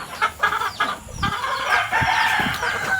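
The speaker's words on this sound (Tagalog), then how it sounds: "Maraming native na manok mga kaparmers." Native chickens cluck and squawk in a backyard farm, several birds close by making short overlapping calls over a continuous background of farm noise.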